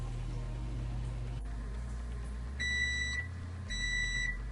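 A kitchen appliance timer sounds when muffins finish baking, giving two bursts of steady electronic beeping over a low appliance hum.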